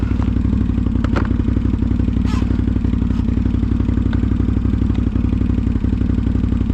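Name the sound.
Can-Am Outlander ATV engine accelerating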